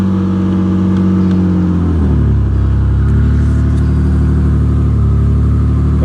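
A custom mid-mount turbo engine in a Nissan G35, fitted with a silencer, revs loudly and close, a deep rumbling idle that climbs into a sustained, heavier drone after a throttle blip.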